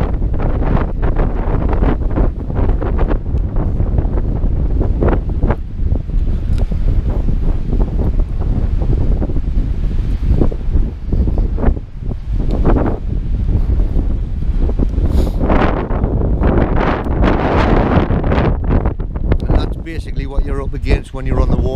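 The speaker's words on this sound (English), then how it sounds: "We can hear that wind if I put you in the wind." Strong wind at Loch Lochy buffets the microphone with loud, gusting low roars and rushes that surge and ease throughout, with water and open-air noise beneath.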